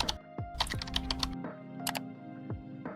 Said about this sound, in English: Let's type it in right now.